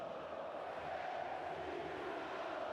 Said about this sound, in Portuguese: Canta alto, canta a torcida do Flamengo